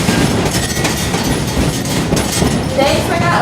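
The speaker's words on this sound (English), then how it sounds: "Our train is big, our train is fast, and our train is heavy." Stone Mountain Scenic Railroad train running on the tracks, a steady loud rumble of heavy wheels and rail noise with faint clattering, continuous and close.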